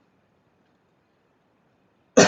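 A single sharp cough bursts out after a quiet pause at the end, close and loud, from a lecturer teaching parallel computing.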